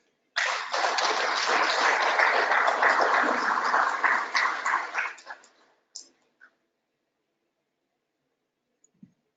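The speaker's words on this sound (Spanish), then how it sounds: "la palabra al ingeniero Luis Llamada, a quien recibimos con un aplauso." A crowd at an HVAC energy-efficiency talk applauds steadily for several seconds, then the clapping thins out into a few scattered claps before silence.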